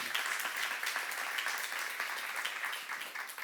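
A church congregation at a seminary session breaks into applause, a continuous, even burst of many hands clapping with no speech over it.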